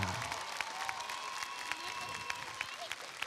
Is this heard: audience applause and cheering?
yes